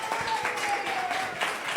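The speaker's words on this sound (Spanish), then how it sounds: "¿Cuántos le dan un aplauso a Ofe que está con nosotros?" Audience clapping at an interview event, a steady crowd patter of applause with a faint whistle-like tone running through it for about two seconds.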